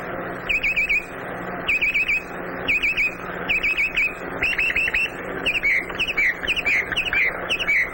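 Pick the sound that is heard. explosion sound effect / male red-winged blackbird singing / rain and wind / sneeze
male red-winged blackbird singing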